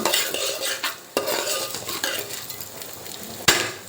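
Curry leaves and spices dry-roasting in a pan are stirred briskly, giving repeated metal spoon scrapes and clanks over a light crackle, with sharp knocks against the pan.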